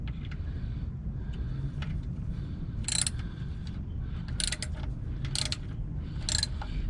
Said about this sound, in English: Start wrenching, closing the screw in.